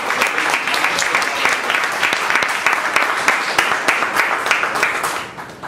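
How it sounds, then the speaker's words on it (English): A group at a club meeting gives a hearty round of applause, with loud, close, fairly rhythmic clapping that keeps going steadily for several seconds before tapering off at the end. "Prakash deserves a big round of applause."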